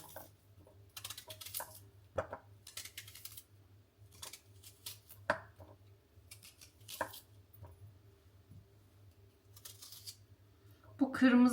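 A knife finely chops a quartered onion on a board for a tuna salad, giving sparse, irregular crisp strikes over a steady low hum, with a flurry of quicker cuts near the end.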